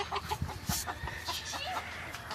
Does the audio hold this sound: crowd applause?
no